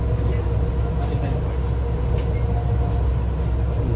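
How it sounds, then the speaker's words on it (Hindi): Palm Jumeirah monorail pulling away and moving: a loud, steady, dense rolling rumble and roar heard from on board, continuous with no breaks. "मोनो रेल हमारी रवाना हो चुकी है"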